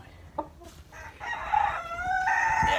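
Chickens clucking and a rooster crowing nearby, with several overlapping calls building over a few seconds, no talking.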